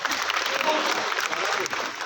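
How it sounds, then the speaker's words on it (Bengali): An audience applauds at a film team's event at Nandan, a short burst of dense clapping at moderate distance, with voices mixed in. "ওর জন্য একটা হাততালি হোক।"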